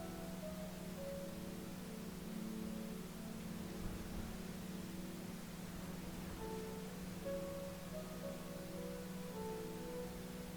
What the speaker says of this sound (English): pink noise contains all audible sound frequencies in its unique,